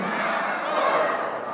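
A crowd at an Armenian christening celebration shouts a toast together, raising glasses, in one loud sustained burst of many voices.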